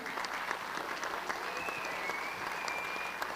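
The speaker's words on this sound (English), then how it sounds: "Let's give another round of applause for Jen Gerard." Steady, dense applause from a crowd at a school district awards ceremony honoring a student support services professional, a continuous wash of many hands clapping at even loudness throughout.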